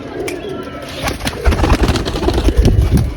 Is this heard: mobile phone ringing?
no